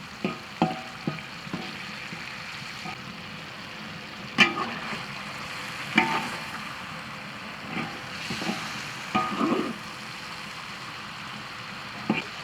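Pork stir-fries in a hot pan for braised pork, a steady soft sizzle broken by scattered clacks and scrapes of a spatula stirring the meat, close and fairly quiet.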